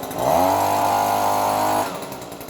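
A small two-stroke engine on an Echo or Shindaiwa yard tool fires up on a hot restart and holds a steady high buzz, then drops back to a lower idle, close and loud.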